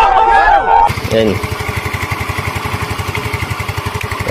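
A Yamaha Mio i 125 scooter engine after an overhaul starts up and settles into a steady, rhythmic running pulse close to the microphone, after a brief moment of talk at the start.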